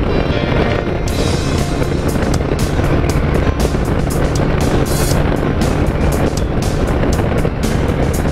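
A 2003 orange Honda GL1800 Goldwing motorcycle is ridden at speed with smooth shifting. Constant loud wind buffeting and road roar almost bury the engine, with gusty bursts throughout.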